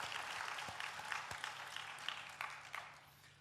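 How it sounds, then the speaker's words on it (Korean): Congregation in a church sanctuary giving scattered applause, faint and distant, a thin patter of hand claps with a few sharper claps standing out over about three seconds. "박수 한번 칠까요?"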